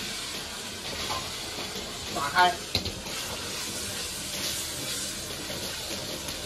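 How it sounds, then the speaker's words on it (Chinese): Tofu frying in about 40 grams of oil in a hot pan on a home stove, a steady broadband sizzle running throughout with a brief louder burst midway, while someone talks over it. "豆腐下锅"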